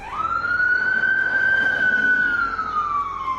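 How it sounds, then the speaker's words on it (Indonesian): An ambulance siren passes on a street at night, loud and close, with one steady wailing tone that rises and then falls away as the vehicle goes by. "Nah, pas lewat ambulans"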